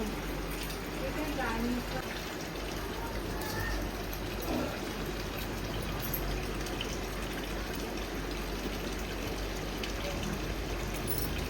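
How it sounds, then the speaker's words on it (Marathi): Water flows continuously at a village temple, a steady rushing wash with no breaks, while people talk faintly in the background. "मस्त पाणी वाहत आहे"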